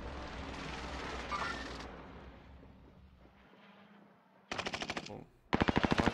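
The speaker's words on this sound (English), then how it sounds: "Shooting at me." Video game gunfire: a low rumbling battle fades, then two loud bursts of rapid machine-gun fire rattle close by, separated by a short pause.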